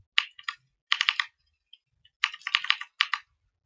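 Bursts of rapid clicking keystrokes on a computer keyboard while coding HTML, close and crisp, in four quick clusters separated by short pauses, with no talking.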